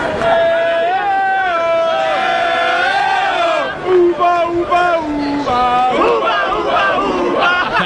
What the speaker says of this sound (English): Each remaining player with his own unique cheering section.